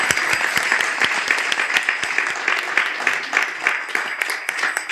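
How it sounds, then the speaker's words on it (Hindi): An audience at an ISKCON spiritual talk in Rohtak bursts into lively applause for a group of devotees, many hands clapping in a dense, bright, sustained patter that stays loud and steady throughout. "इनके लिए जोरदार ताली हो जाए."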